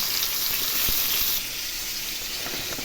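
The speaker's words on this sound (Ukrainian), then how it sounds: "Рибка смажиться спершу." A steady, close hiss of three pieces of fish frying in a pan fills the pan throughout, with a faint tap or two and no talking.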